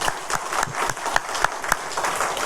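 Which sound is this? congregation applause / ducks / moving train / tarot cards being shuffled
congregation applause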